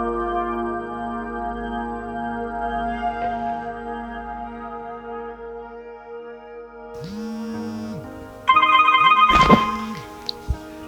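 A telephone rings indoors with a steady electronic tone that shifts into a brighter, louder burst near the end, as heard in a French-language African film.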